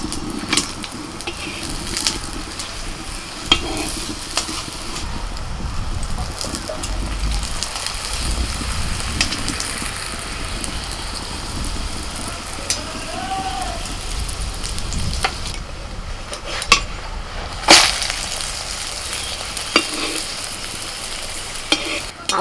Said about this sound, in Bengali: এরকম লাল লাল করে ভেজে নিতে হবে।